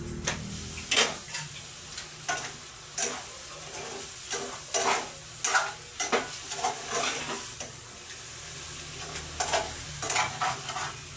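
Jackfruit sautéing in a pan for dinner gives a steady crackling sizzle, broken by repeated sharp clinks and scrapes of a utensil stirring against the pan at close range.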